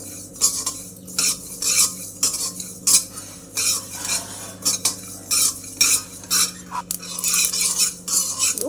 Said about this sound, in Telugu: ఇవి 1 కప్ అన్ని నువ్వులు వేసుకొని మంచిగా ఫ్రై చేసుకోవాలి.